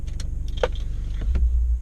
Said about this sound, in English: I'm going to turn the car off.